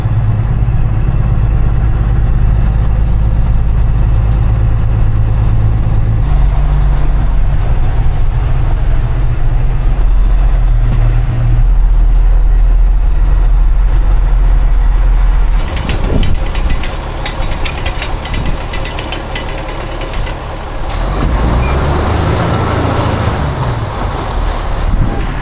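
A semi truck hauling a load of corn rumbles with a loud, steady low engine drone and heavy wind buffeting the microphone, the pitch shifting as it works along.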